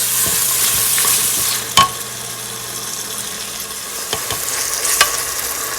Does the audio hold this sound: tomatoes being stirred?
yes